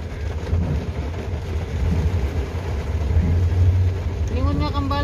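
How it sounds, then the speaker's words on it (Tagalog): Heavy rain pours in Kusui Bay, a dense continuous hiss with low rumble beneath, while voices start speaking near the end. "It's very heavy rain."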